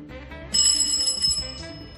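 A doorbell rings once, a bright metallic bell tone that comes in suddenly, rings for about a second, then fades out over a low room background.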